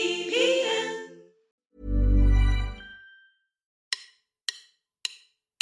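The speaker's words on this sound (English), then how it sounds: "That's the sound of drumsticks, setting the tempo for change." Four sharp drumstick clicks strike at an even pace, setting a tempo on their own after a brief spoken or vocal passage and a low, dull swell.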